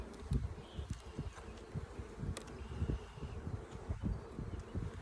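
Honey bees buzz around a hive being converted from winter to spring setup, a close, dense hum of many wings with brief individual bees zipping past the microphone amid light rustling.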